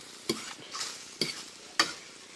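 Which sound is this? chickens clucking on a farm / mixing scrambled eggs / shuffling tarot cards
mixing scrambled eggs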